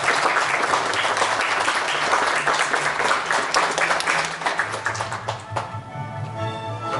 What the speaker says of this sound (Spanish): Un fuerte aplauso para Javiera.